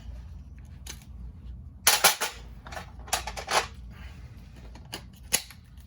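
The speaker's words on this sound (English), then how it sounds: "I can just use my ratchet, my 3/8 ratchet." A 3/8-inch ratchet wrench clicks while loosening a car battery terminal in a cold garage, giving short bursts of sharp ratcheting clicks with pauses between strokes over a low background hum.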